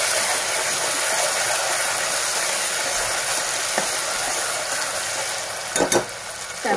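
Ginger, garlic and green chillies sautéing in a pan for Agri chicken rassa, a steady loud sizzle and crackle with a few sharp stirring scrapes near the end.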